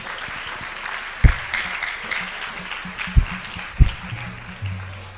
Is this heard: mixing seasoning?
no